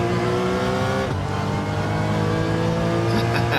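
A McLaren F1 race car roars past at speed during a circuit race, its engine note steady and loud with a slight pitch shift as it goes by, other racing engines blending in the background.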